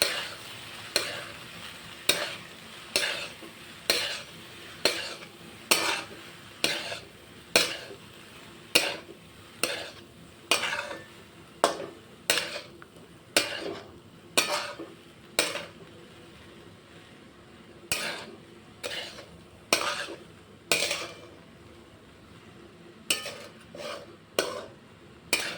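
Moong pulao mixture with masala is stirred in a pan. Regular metallic scrapes and clinks of a spoon against the pan repeat roughly every second over a soft background sizzle.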